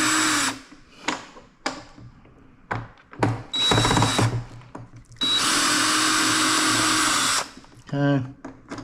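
A handheld power drill backs screws out of motorcycle tour pack hinges in several whirring bursts of varying length, close up, with short pauses and a voice between runs.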